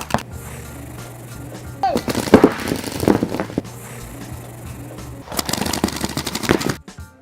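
Paintball markers fire rapidly at about 12.5 balls a second during a paintball game, two fast bursts of crackling pops like machine-gun fire, moderately close and loud, with quieter field noise between the bursts.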